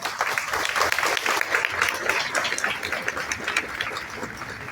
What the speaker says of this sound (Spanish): recibimos con un caluroso aplauso